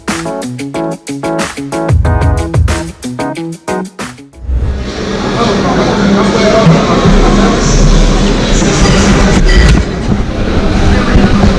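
A train at a station in Mexico, on the route from La Paz to Los Mochis: a steady rhythmic clatter for about four seconds, then a loud, dense rumble and roar that holds steady to the end, with voices heard in the mix.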